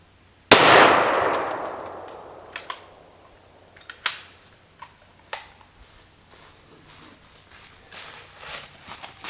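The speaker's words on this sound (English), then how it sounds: "let's go ahead and shoot that ultra high molecular weight helmet" A single sharp SKS rifle shot strikes an ultra high molecular weight polyethylene helmet, a loud crack and clang that rings and decays over a second or two, followed by scattered faint knocks and rustles.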